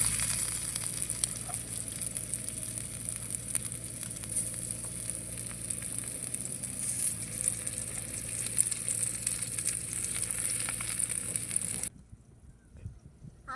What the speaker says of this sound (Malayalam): കണ്ടോ? കൊഞ്ചിനെ ഫ്രൈ ചെയ്യാൻ പോണേണ്.